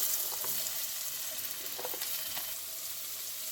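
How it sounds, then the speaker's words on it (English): Potatoes frying in a good amount of oil on a griddle, a continuous soft sizzle with scattered small pops and crackles, fairly quiet and close. "Now I'm going to add my potatoes."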